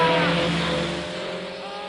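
A car engine hums steadily while driving, its tone holding and then easing off as it fades slightly, with brief speech over it.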